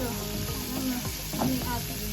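Butter sizzling in a frying pan, a constant hiss with a couple of brief scraping stirs, quiet and close, no talking.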